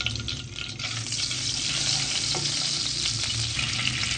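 Ghee sizzles loudly with spices in a pan for garlic potatoes, a continuous dense frying hiss with stirring, close and steady throughout.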